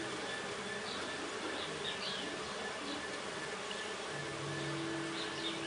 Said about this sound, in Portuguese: Olha, não dá pra negar que tá cheio de abelha.